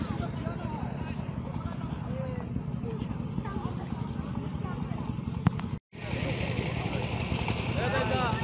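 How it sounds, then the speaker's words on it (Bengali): A water irrigation pump engine runs steadily near a riverbank where dredging machines sit, a continuous low mechanical drone with a brief cutout, under someone talking. "তো আপনাদের এখন দেখাইছি যে পানি সেচের যে ইঞ্জিন"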